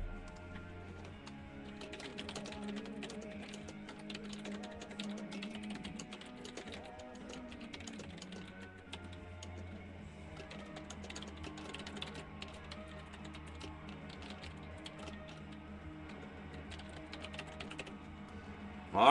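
An email address is typed on a computer keyboard: a long, steady run of quick, light keystrokes at close range, fairly quiet over a low background hum.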